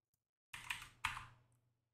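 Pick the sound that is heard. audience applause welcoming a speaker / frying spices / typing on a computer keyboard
typing on a computer keyboard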